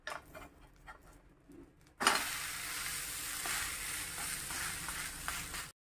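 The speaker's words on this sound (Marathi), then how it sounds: "हा पण उत्तप्पा आपण पलटून घ्यायचा आहे." An onion uttapam made from idli rava is flipped on a hot pan; after a quiet moment a sudden loud sizzle erupts and keeps crackling steadily.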